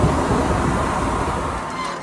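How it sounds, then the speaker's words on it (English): A steady, loud rush of air from a commercial HVAC unit's power exhaust fan blows continuously, broadband and unchanging, with no voices. "Here's my power exhaust. We're blowing out all kinds of air."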